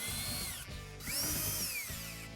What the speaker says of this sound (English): I'm going to use a cordless drill, although a screwdriver will work just the same.